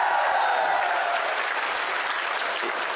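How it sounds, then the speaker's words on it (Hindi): Steady crowd applause at a Congress party political rally in Shahpura, a dense, continuous clapping wash heard at a moderate distance with a faint crowd murmur beneath. "आप सब लोग इस शाहपुरा के नौजवान विधायक के लिए जोरदार तालियां बजाओ।"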